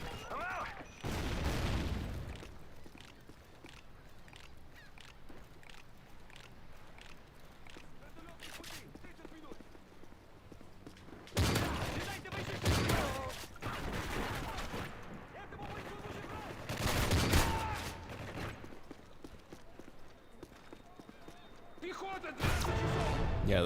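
A KSG 12 pump shotgun fires in Call of Duty MW3 Survival mode. Five or six heavy, booming blasts come at irregular intervals, spaced several seconds apart, over a low murmur of game sound and faint voices.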